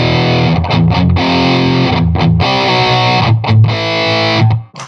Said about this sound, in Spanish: Entonces ahí una distorsión quedaría súper.